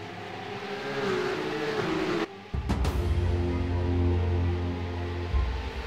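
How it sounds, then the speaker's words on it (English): Porsche Carrera Cup race cars launching off the grid in the iRacing simulator, a steady loud engine drone that cuts out briefly, then returns with a deeper revving roar as the cars accelerate away. "Josh Muggleton would get a fantastic launch off of the grid and lead pole sitter Scott Larnack into turn"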